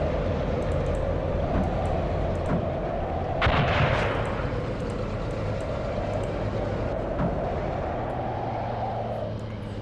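A WWII tank battle in a 1943 Tunisia setting of a video game: a heavy cannon blast booms once mid-clip over a constant low engine rumble and scattered distant battlefield noise, with no talking.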